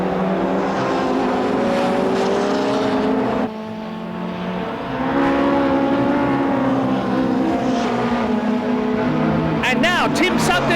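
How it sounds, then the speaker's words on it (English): Onboard a touring car racing at Donington Park in 1990, the engine drones loudly and steadily with harmonic whine, briefly dipping before surging again, under continuous commentary. "We are riding with Andy Rouse, the overall leader, being chased by Rob Cravitt, number 11"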